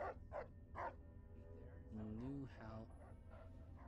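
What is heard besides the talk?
dog Dogmeat barking in Fallout video game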